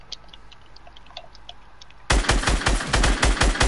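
Rapid bursts of video game gunfire break in suddenly after a quiet stretch of faint clicks, loud and close, repeating in a fast regular rhythm until the end.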